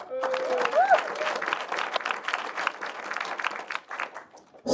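Applause from an awards-night festival audience greets a nominated film, many hands clapping steadily with a short whoop early on, fading slightly before a voice cuts in at the very end.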